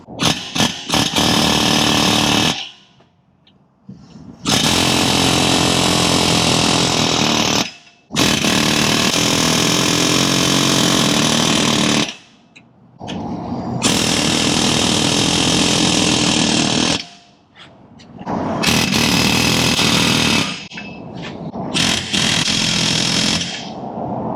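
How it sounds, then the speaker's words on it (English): Loud bursts of a pneumatic air hammer working a stuck wheel in an auto repair shop, several rattling runs of a few seconds each separated by short pauses, close up. "Usually turning these a little bit with the air hammer helps get them out a lot easier"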